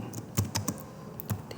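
Someone types a few quick keystrokes on a computer keyboard while coding JavaScript, giving crisp close clicks in a short irregular burst.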